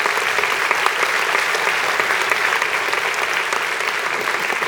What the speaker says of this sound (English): If you could give all the upper level administrators a round of applause